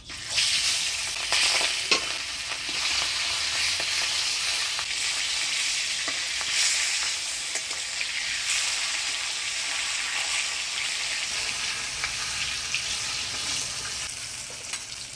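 Pangas fish sizzles steadily in hot oil in a village kitchen, a constant loud crackling hiss with occasional stirring scrapes, no talk.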